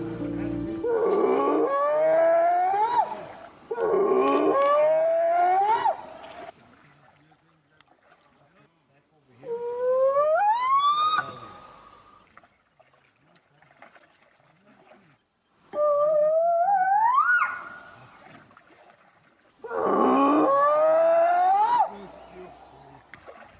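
A recorded Bigfoot whoop-and-howl call blasted from a speaker while crossing a mountain lake: five long, loud rising and wavering howls separated by quiet pauses.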